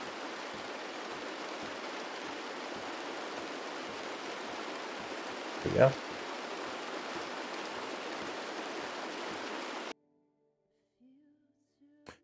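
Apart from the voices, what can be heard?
rain hitting car windows in a driving video game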